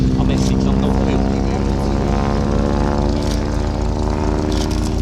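North American T6 Harvard propeller plane performing at an air and car show, its radial engine droning loud and steady with a rough rumble throughout, an announcer speaking over it.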